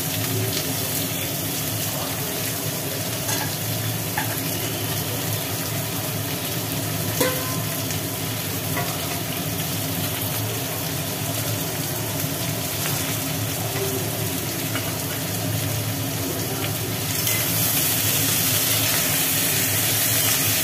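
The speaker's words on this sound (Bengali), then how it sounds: "পেঁয়াজ আর আলুটাকে একটু তেলের ওপরে ভালো করে ভাজি করা হচ্ছে" Onion and potato pieces frying in hot oil in a kadai, a steady, dense sizzle and crackle running continuously and close, with occasional stir clatter and no voices.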